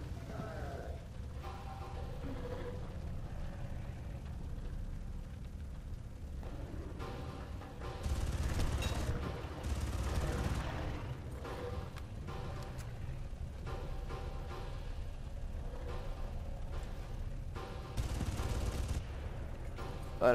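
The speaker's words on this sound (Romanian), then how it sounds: "s-a aude unul care trage în continuu" Continuous gunfire in the Far Cry video game, a dense, steady rattle of distant shots with heavier bursts partway through, running without pause.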